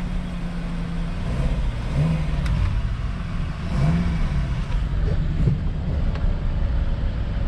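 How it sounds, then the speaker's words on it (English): Luxury car engines idle and rev at a dealer-only auto auction in Oklahoma, a steady mid-level engine drone with occasional rises in pitch, heard amid outdoor background noise. "All these motors don't sound that good to me."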